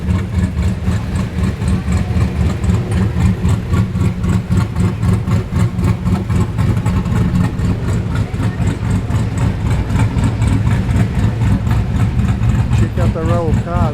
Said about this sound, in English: Look at very Tuff the Maloo HSV. It's got a nice